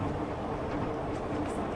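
Steady, even rumble of a light-rail LRT train and station at Taipei during rainy drizzle, broadband and constant throughout with no clear voices, moderately loud.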